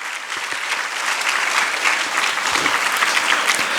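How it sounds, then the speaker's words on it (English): Sustained applause from a sizable crowd, steady and fairly loud throughout, with dense clapping and no pauses. "Please give a round of applause for them."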